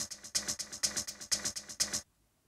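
A long shaker sample triggered from an Akai MPC 3000 sampler, a bright rhythmic shuffle of about eight even accents repeating steadily for two seconds, then cutting off to silence.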